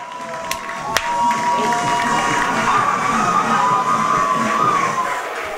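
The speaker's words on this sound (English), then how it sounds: "Elation from the Loudermilk Field crowd." Home crowd at Loudermilk Field cheers and claps for a college baseball home run, a sustained roar of shouting and applause with a few sharp claps and whistles, while a commentator talks over it.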